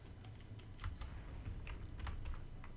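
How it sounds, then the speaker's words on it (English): Computer keyboard typed on while playing a game, a steady run of soft key clicks, close and faint, without talk. "trying to play on keyboard right now for some reason"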